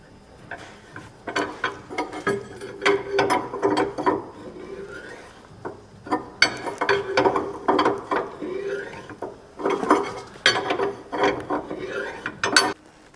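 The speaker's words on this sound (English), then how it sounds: "5/16 wrench and loosen it by hand." Nut on a Hummer H2-type steering linkage being loosened with a 5/16 wrench, repeated close ratcheting and scraping strokes in uneven bursts.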